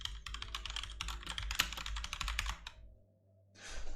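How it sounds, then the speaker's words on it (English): Rapid clacking keystrokes from a loud mechanical computer keyboard, dense bursts of typing close to the microphone that pause briefly before a final short flurry. "And I apologize for the loudness of my keyboard. It's a mechanical one"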